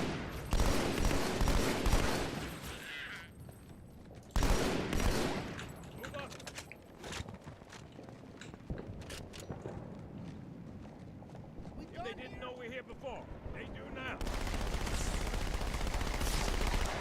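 Halo video game combat with bursts of rapid automatic gunfire and heavy weapon blasts, loud and dense at first, then scattered shots and effects under ongoing game audio.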